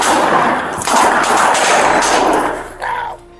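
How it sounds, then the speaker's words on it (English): Loud bursts of gunfire crackle in rapid succession, several shots overlapping like an exchange, ending with a final sharp report and a metallic clang. "Cochran responds by drawing his weapon, and the two exchange gunfire."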